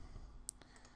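A single faint computer mouse click confirms an OK button during a Photoshop logo layout, with a brief soft tick over low room hiss and a fainter second tick just after.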